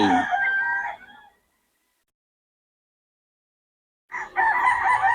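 Chickens at a farm, with a rooster crowing loudly and close by for about a second, then a long silent gap before another loud burst of crowing and clucking.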